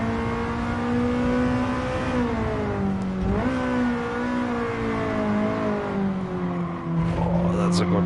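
A car engine in Gran Turismo 7 revs hard with rising and falling tones as it shifts and accelerates, loud and continuous, with a brief tire squeal near the end.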